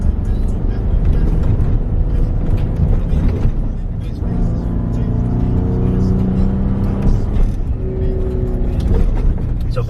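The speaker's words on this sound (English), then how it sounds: "So Baja mode keeps the engines revving" Ford Raptor in Baja mode holding high revs on an off-road trail, a loud continuous engine drone with rising and falling tones, heard from inside the truck while people talk.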